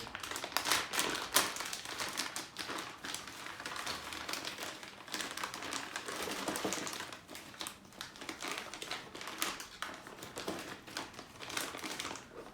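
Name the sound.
plastic parts bag being opened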